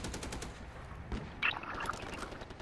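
Turret gunfire in an online shooter video game, a rapid rattling burst of automatic fire that continues steadily, with a brighter metallic hit or explosion cutting in partway through.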